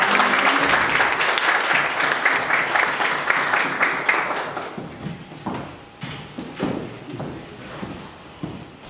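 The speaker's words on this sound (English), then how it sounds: "So give the big clap." An audience applauds loudly at a Republic Day celebration at a university in Russia. The dense clapping thins into scattered claps and thumps partway through.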